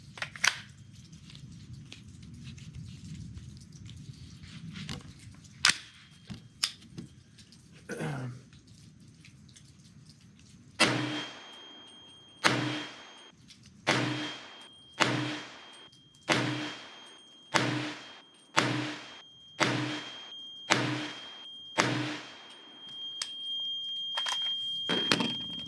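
A 300 Blackout rifle fitted with a V Seven 6.5-inch fluted barrel fires about a dozen sharp, loud shots at a steady pace outdoors, each with a short ringing decay, after a few quieter scattered knocks.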